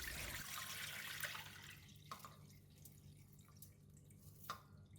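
Freshly rinsed rice drains with a faint trickle of water that fades, followed by a couple of soft, isolated drips in a quiet kitchen.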